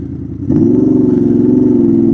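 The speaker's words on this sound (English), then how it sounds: "look at that little Kawasaki Vulcan" A Kawasaki Vulcan motorcycle engine runs loud and close with a steady, throbbing low drone that swells suddenly partway in and then holds, with no talking over it.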